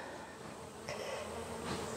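Honeybees buzz steadily around an open hive during a queen replacement check, a continuous close drone with a couple of louder swells as individual bees pass near.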